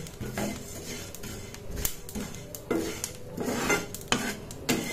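Fennel seeds lightly fried and stirred in a pan, with close scraping and clinking of a utensil against the pan in irregular strokes and a soft sizzle underneath.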